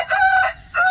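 A rooster offered for sale crows twice in quick succession, loud and close, with a clear tonal call.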